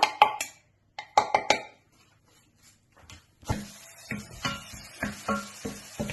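Onions and leeks frying with pepper cores in olive oil in a pan, stirred with a utensil: a few sharp metallic clinks come in bursts, then a quieter patch gives way to a sizzling hiss broken by repeated scraping knocks.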